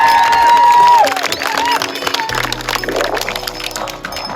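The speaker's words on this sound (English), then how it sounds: "So I want a big round of applause for playing with us this weekend, Miss Aaliyah" A crowd applauds and cheers for a youth girls' soccer player at a club gathering, a loud, steady wash of clapping and voices that runs throughout with no pause.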